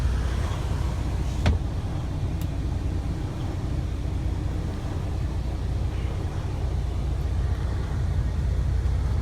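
A used semi truck's diesel engine idles with a continuous low rumble and slightly uneven churn, heard from near the cab over steady broadband noise, with a single sharp click early on.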